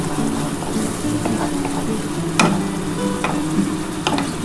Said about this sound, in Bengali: মশলার জলটা কিন্তু আমি দিয়ে দেবো এবার ভালো করে কষাতে হবে কিন্তু